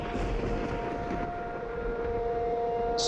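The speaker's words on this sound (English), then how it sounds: "sirens are going off." Civil defense tornado sirens wailing in a tornado survival video game mod, a steady droning tone that holds throughout, sounding distant and spread out, with no talking.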